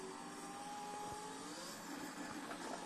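A video game car engine over-revs after a downshift to second gear, whining at high pitch, steady and continuous, with a buzzy synthetic edge and no talking.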